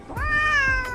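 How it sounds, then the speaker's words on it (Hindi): A cat gives a single clear, drawn-out meow at close range, rising and then holding steady for most of a second before trailing off. "बिल्ले के सुरों के तार कुछ ज्यादा ही मजबूत दिखते हैं"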